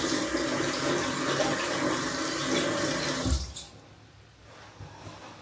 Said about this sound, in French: Je vais me laver les mains déjà.